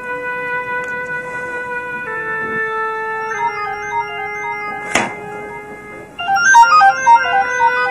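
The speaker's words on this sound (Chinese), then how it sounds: "是不是我的电话响了？" A mobile phone ringtone plays a steady electronic melody of clear tones, with a sharp click midway and a brighter, busier run of notes near the end. No one speaks.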